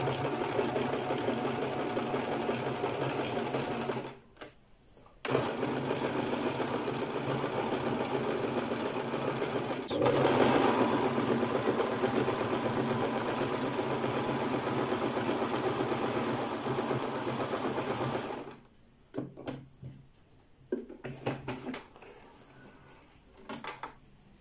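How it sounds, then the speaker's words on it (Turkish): A domestic sewing machine stitches an embroidery pattern in long close bursts of rapid needle chatter, stopping briefly near the start, running steadily through the middle, then giving way to a few short taps and quiet near the end. "Bu çubuğu takip ederek dikeceğim."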